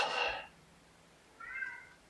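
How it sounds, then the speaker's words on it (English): A house cat gives two meows nearby at moderate volume, a longer one followed after a short pause by a briefer, softer one, in a quiet room. "oh, that's my cat"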